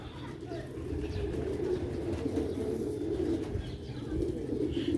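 Pigeons kept by a fancier, of the old Sialkoti medical-type breed, cooing steadily at close range in a low continuous murmur that persists throughout, with faint background noise mixed in.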